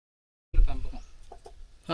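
A white fighting-breed rooster clucks close by in a few short, low bursts, starting abruptly after a moment of silence.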